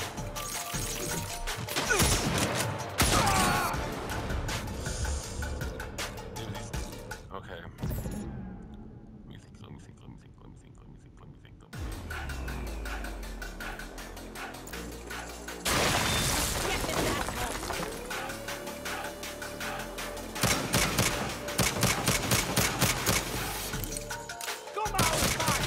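Gunfire in Saints Row, with sharp shots and crashing impacts scattered through a busy game mix and occasional quiet pauses, while a voice speaks softly over the action.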